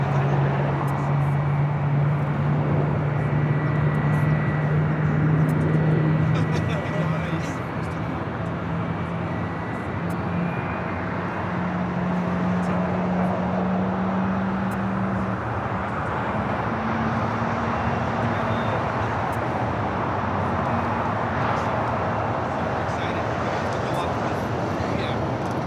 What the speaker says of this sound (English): United 757-200 touching down here on the south side.